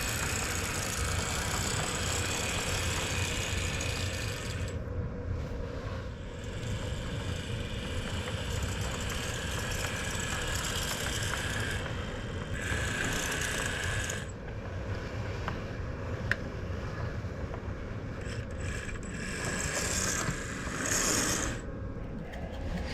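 Diesel railroad locomotive engines idle at a yard after a caboose is cut loose, giving a steady low mechanical rumble with rattling and clanking throughout.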